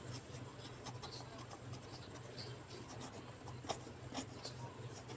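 A pen or marker scratches across paper or a board while working a Class 6 maths addition exercise, soft rubbing strokes and taps in a quiet room, steady and close.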